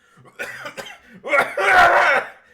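A harsh, loud bout of coughing close to the mic, a few short coughs building into a longer rough hack.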